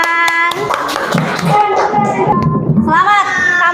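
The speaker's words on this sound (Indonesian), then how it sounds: "Oke, kasih tepuk tangan" Hands clap in applause, a quick burst of close, steady claps mixed with a voice and other chatter in a classroom lesson.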